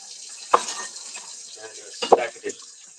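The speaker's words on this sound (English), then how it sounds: "we're going to fill up this sink with water" Water runs from the tap into a kitchen sink, a steady close wash of flow punctuated by two sharp clinks, with no voices.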